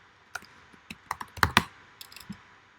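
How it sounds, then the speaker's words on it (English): Fingers type on a computer keyboard in an uneven burst of crisp, close clicks and taps, some keys struck in quick clusters, with no voice. "what I like to do is just copy and paste that in and type blog after the name."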